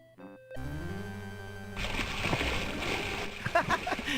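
Water splashing and sloshing in King's Quest VI as powerful sea currents carry a swimmer out; a sustained, moderately loud wash of water rises after a brief musical opening, with a few sharper splashes near the end.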